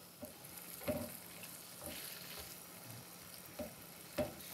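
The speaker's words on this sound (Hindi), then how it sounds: "प्याज़ों के साथ और हरी मिर्चों के साथ एक मिनट सौटे करेंगे" Chicken being sautéed with onions and green chillies in a pan, a soft steady sizzle broken by a few sharp stirring scrapes, close up with no talk.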